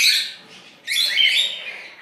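Two albino bird chicks in an open nest beside an egg give thin, high begging chirps in two close bursts with a brief pause between, loud and near, with no talk over them.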